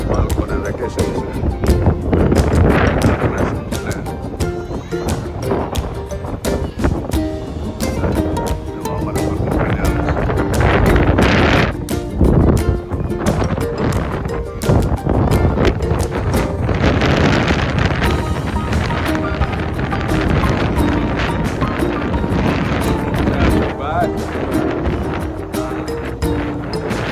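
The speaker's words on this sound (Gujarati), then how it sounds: "પવન આવે છે દુનિયાનો." Strong wind roars steadily outdoors at a family home, a loud, rough buffeting that fills the whole stretch with gusty swells, while people talk underneath.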